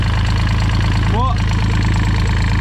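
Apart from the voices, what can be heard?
sailboat engine just started, idling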